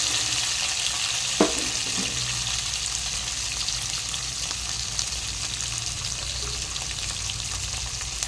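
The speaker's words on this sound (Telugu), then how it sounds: "ఇందులో చుక్కకూర కూడా వేసేస్తున్నాను ఫ్రెండ్స్" Sorrel leaves (chukkakura) frying in a pan for paneer curry, a dense, even sizzle with a couple of brief stirring knocks near the start, close and fairly loud, with no voices.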